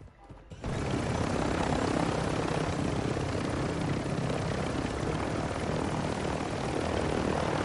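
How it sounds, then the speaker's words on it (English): A helicopter in a video game roars into a loud, continuous rotor and engine wash that starts abruptly after a quiet moment and holds steady and close, with faint game sounds beneath. "I got a helicopter."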